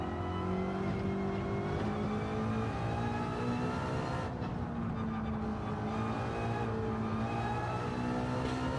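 A race car engine in a racing video game revs steadily and loud, its pitch climbing and dropping through gear changes. The whirring drone holds throughout with no talking.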